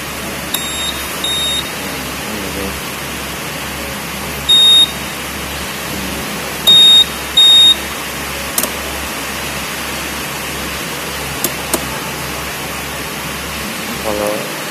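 A Honda PCX scooter's key reminder buzzer gives a few short, high beeps spaced over several seconds, close by, over a steady low hum and background noise.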